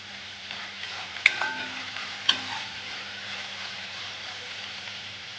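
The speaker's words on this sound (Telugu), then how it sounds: "చిక్కుడుకాయ కూర వండుతున్నానండి" Broad bean curry cooks in a pan with a soft, steady sizzle, broken by two sharp metallic clinks of a utensil against the pan.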